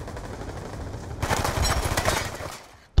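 A rapid burst of automatic gunfire in Call of Duty: Black Ops 2, loud and close for about a second and a half after a quieter start, ending in a sharp final crack.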